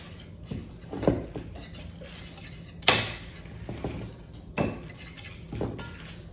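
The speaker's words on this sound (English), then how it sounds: "This is what whisking looks like." Whisking in a bowl while preparing empanada dough, irregular clinking taps and scrapes of a utensil against the bowl, a few sharper knocks at intervals, close and without talk.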